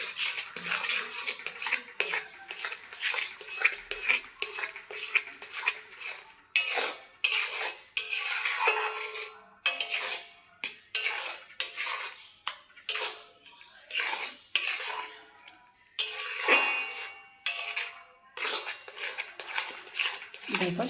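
A metal spoon clatters against a pan while grated boiled potato is mixed with semolina, giving irregular scrapes and taps over a low, quiet background.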